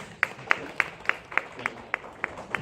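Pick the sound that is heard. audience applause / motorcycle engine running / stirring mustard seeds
audience applause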